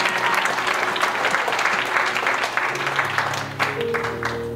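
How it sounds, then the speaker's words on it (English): A church congregation claps steadily together in sustained, dense applause, with a low musical hum underneath that shifts near the end. "Come on, give Jesus a hand clap."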